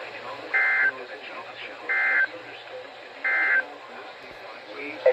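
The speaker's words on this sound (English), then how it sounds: "This ends the test of the National Weather Service weather radio warning alarm." A National Weather Service weather radio sounds its weekly test alert: three evenly spaced, short, buzzy data bursts, loud and clear over a quieter voice talking in the background.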